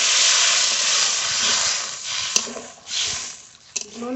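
Water poured into a pan of well-fried spice masala with Maggi masala, giving a loud steady sizzling hiss that slowly fades, with a few small pops and clinks near the end.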